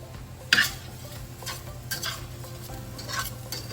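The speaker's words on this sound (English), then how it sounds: "Mix all that in really well." Shepherd's pie filling stirred in a pan, soft scraping strokes of a spoon with a faint sizzle beneath, quiet and close, with a sharper knock near the start and a few irregular scrapes after.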